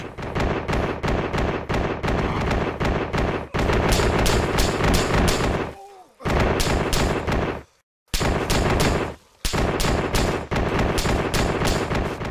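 Bradley fighting vehicles lay down continuous automatic gunfire in Project Reality, the Battlefield 2 mod, loud rapid bursts running almost without break, with a few short gaps and a faint whistling sound in one pause.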